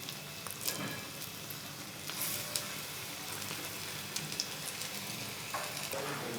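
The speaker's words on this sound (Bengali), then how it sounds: "এবার পকোড়াগুলো এরকম করে আমি আস্তে আস্তে ছেড়ে দেব" Pumpkin pakoras frying in hot oil, a continuous moderate sizzle with soft crackles and occasional bubbling pops as pieces are slid in.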